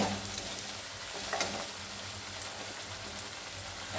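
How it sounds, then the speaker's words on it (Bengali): Masala is sautéed in a pan before kidney beans go in for rajma, a steady close sizzle with a dense rain-like crackle and occasional light stirring scrapes throughout. "এটা কষানো হয়ে গেলে আমি রাজমাটা দিয়ে দেবো।"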